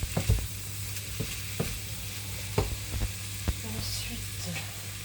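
Shrimp seasoned with salt, pepper and paprika sizzle steadily in a frying pan, with a continuous hiss broken by several sharp clicks and scrapes of stirring, close and moderately loud with no talk.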